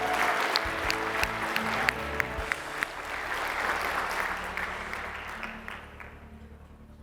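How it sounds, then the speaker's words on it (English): Audience applause at an awards luncheon fills the room with a steady wash of clapping that gradually thins and fades toward the end. "Let's give them one more round of applause."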